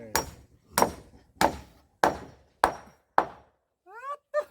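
Hammer blows strike wood during house construction, six sharp, evenly spaced thuds about half a second apart, loud and close, followed by a couple of brief squeaky sounds and no talking.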